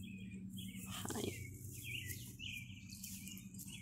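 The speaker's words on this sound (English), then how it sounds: "do you believe that's a baby bird?" A baby bird chirps in repeated short high tweets, faint and somewhat distant over a low steady background hum.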